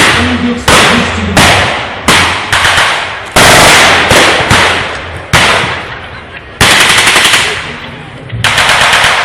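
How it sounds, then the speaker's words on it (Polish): Loud, rapid bursts of gunfire, sharp shots in quick runs with brief pauses between volleys, close and dominant throughout. "Strzał"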